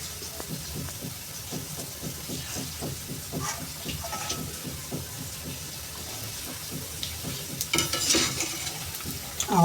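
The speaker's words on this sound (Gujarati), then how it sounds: "જે ના થયા હોય તેને આપણે ગોળ ફેરવી ચારે સાઈડથી તળી કાઢીશું" Coriander pakoda fritters deep fry in hot oil while a slotted spoon turns them, producing a steady sizzle broken by a rapid run of light scraping and clicking strokes, with a louder clatter near the end.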